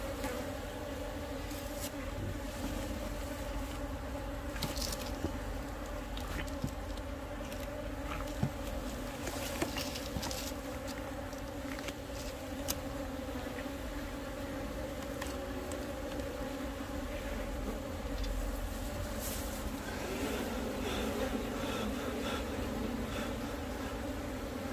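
A swarm of honey bees hums steadily around a wooden hive box during early flowering season, a continuous close, dense buzz with individual bees passing near.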